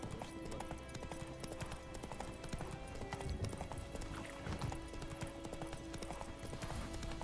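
A galloping horse in The Witcher video game sends out a steady, fast rhythm of hoofbeats over a dense, continuous game soundscape, with no talking over it.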